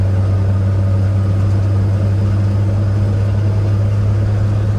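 A 1953 Chevrolet 6100 flatbed truck idling, a loud, steady low engine hum with an even rumbling drone that holds constant throughout.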